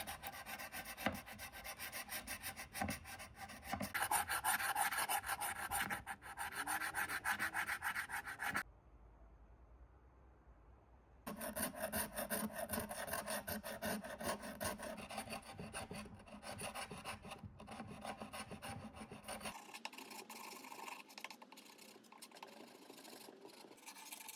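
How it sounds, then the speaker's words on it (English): Hand sander rubbing off the old finish from a wooden furniture piece, a steady close rasping buzz that stops briefly partway through and then resumes alone. "for the second piece I decided to sand it off instead"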